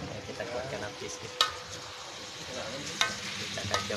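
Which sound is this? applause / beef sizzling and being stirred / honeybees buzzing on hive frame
beef sizzling and being stirred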